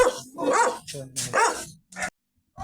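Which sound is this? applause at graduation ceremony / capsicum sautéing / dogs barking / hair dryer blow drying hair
dogs barking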